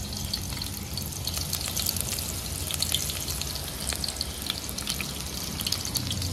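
Onions sizzle and crackle steadily in a hot pan, a dense, even frying hiss with faint popping close by.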